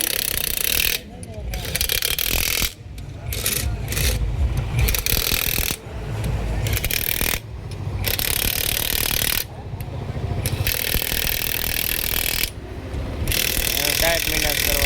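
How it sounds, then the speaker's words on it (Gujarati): An impact gun tightens tractor bolts in a garage, with loud bursts of rattling hammering repeated in several spells and brief pauses between them. Voices can be heard talking underneath. "એટલે આપણી પાસે ગન મશીનો છે, એનાથી ફિટ કરશે"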